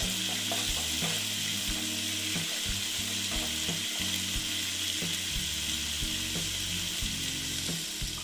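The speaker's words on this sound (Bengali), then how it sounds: "দেখো, আমি ভালো মতন ভেজে নিচ্ছি, তা না হলে গন্ধ করবে।" Chital fish fries in hot oil in a steady, close crackling sizzle with no talk, while a low rhythmic thumping runs underneath.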